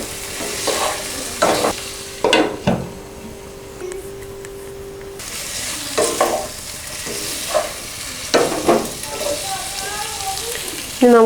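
Chicken cooks with half a capsicum in a pan, a soft continuous sizzle under repeated louder scrapes and clatters of stirring, spaced irregularly.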